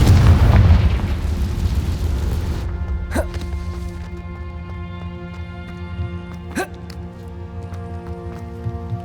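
A Confringo blasting curse goes off in the Hogwarts Legacy video game: a loud, close explosion that rumbles and fades over a couple of seconds. Two sharp magical zaps follow over a quieter, droning game ambience.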